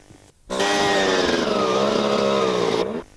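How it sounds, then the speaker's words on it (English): A motorcycle at a 1997 race meeting catches on a single kick and runs in a loud, steady, buzzing idle for about two and a half seconds before cutting off abruptly, with no talking over it. "He was lucky that his bike fired up first kick."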